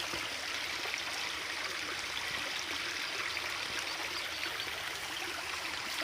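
After rain, water rushes along a channel in a continuous, close, hissing flow with a bright trickling texture, steady and unbroken with no voices.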